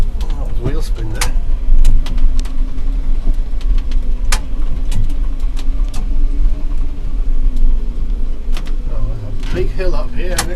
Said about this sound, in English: Oh, there's wheel spin there.